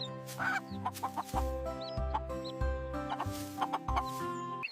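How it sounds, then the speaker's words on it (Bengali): Hen clucking in short, repeated bursts, close and clear, set against steady background music with a low, rhythmic beat. "এটা মুরগি। মুরগি ডিম দেয়।"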